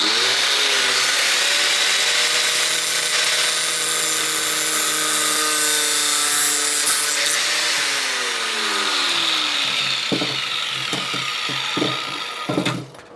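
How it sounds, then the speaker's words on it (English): A power tool cuts through bicycle wheel spokes as part of fitting a car rim to a bicycle. It gives a loud, steady high whine whose pitch sags under load, then a few sharp snapping hits near the end. "What we're gonna do is cut all the spokes"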